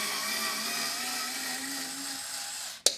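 Cheap Ferm cordless screwdriver backing a screw out of particleboard: a steady, high motor whine for nearly three seconds, fairly close, ending in a sharp click as it stops, with no talk.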